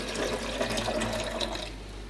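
Fresh water pours into the reservoir of a home espresso machine in a steady, hissing splash that tapers off toward the end.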